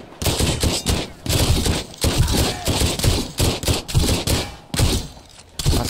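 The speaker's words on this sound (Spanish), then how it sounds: "Tenía ametralladora, tío." Bursts of automatic gunfire from a machine gun in the survival game Sunkenland, loud and close, firing in rapid volleys separated by short gaps across the whole stretch, with no talk over it.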